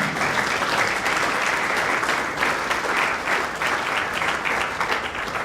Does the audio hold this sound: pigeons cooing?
no